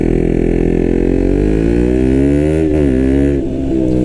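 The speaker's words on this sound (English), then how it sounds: "Sounds good with the Scorpion exhaust as well." KTM Duke 125 motorcycle fitted with a Scorpion exhaust, heard while riding: a loud, close engine note that climbs steadily in pitch under acceleration, dips briefly as it shifts, then rises again, with no talking.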